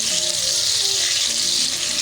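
Tomatoes with a pinch of salt fry steadily in a pan, giving a constant close, even sizzling hiss with no speech over it.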